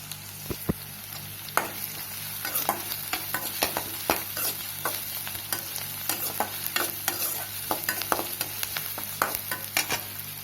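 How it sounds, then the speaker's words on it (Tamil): Chopped onions with green chilies sauté in a pan, a soft steady sizzle under repeated sharp scrapes and clicks of a spoon stirring against the metal, fairly quiet and close. "வெங்காயம் நல்லா வணங்கட்டும்"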